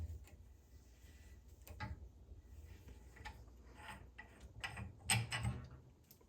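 Workshop sounds of a Ducati DesertX fork base valve being unscrewed, with quiet metallic clicks, ratcheting ticks and small clunks of the fork leg being moved, faint and intermittent, no voices.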